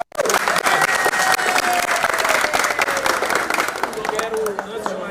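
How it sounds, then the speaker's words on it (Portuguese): A party gathering of the Workers' Party bursts into loud, dense applause, many hands clapping close and steady, with crowd noise and faint voices mixed beneath. "Uma salva de palmas para a democracia interna."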